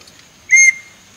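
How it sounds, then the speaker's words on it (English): A single short, shrill blast from a safety whistle for solo camping, close and clear against a quiet background. "Never forget your whistle."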